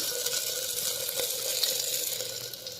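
Something frying gently in a pan on low heat while majjige huli is prepared, giving a steady, soft, continuous sizzle close by with no talking.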